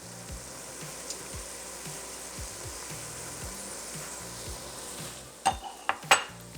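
Garlic stirring in a hot pot of cheeseburger soup base, with a steady low sizzle throughout and a few sharp utensil clinks against the pot near the end.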